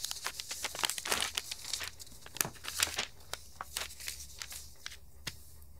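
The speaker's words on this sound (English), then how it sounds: "New piece of paper." A fresh sheet of printmaking paper is handled close by, giving a quiet run of crisp crinkles, flaps and rustling taps that thin out toward the end.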